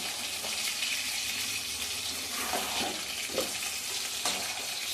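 Fried duck eggs and potatoes go into a pan of well-cooked spiced masala, which sizzles loudly and steadily up close, with a few scraping stirs.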